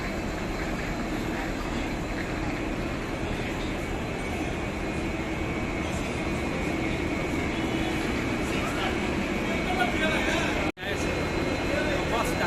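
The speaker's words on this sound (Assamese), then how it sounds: "পুৰী ট্ৰেইন আমাৰ 3 নম্বৰত আছে" A Puri-bound train waits at platform 3 of a railway station, its low, steady rumble filling the whole stretch while people talk nearby, broken by one abrupt cut near the end.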